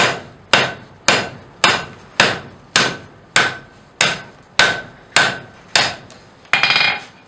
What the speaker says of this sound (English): we're going to drive this material down now using back face hammer blows on the far side